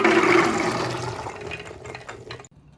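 Water pouring off soaked chickpeas as they are drained, a loud rushing splash that gradually thins out and then stops abruptly.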